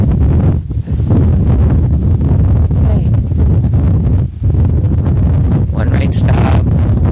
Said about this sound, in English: Windy, windy, windy. I'm sure you can hear it on the camera.